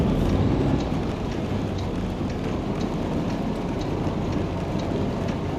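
Steady rain falling in American Truck Simulator, a dense, even wash of noise that holds at the same loud level from start to finish, with no voices.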